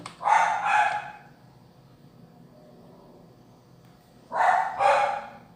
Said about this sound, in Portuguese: não repare os cachorros